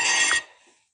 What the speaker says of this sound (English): Sorry, I just got a phone call in there.